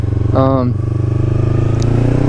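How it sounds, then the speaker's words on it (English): A Yamaha R3 motorcycle runs nearby, its engine rising in a quick throttle roll-on for a wheelie and then holding a steady rumble, with a voice speaking over it. "kind of roll off the throttle and then roll on really quick, just open it up really quick"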